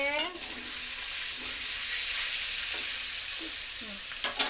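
Fish crackles and sizzles steadily in hot oil, close by, with a few brief clinks and scrapes at the start and end.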